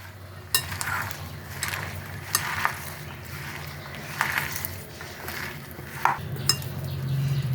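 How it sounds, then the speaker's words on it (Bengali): Rice flour, green chilli and chopped onion being mixed by hand into a batter for papaya flower fritters, with soft irregular stirring and scattered utensil clinks against a bowl, close and fairly quiet. "এক চামচের মতো ভর্তি চালের গুঁড়ো দিলাম কাঁচা লঙ্কা দিলাম আন্দাজ মতন আর দেব পেঁয়াজ কুচানো এগুলো দিয়ে আমি ভালো করে একটু মাখিয়ে নেবো"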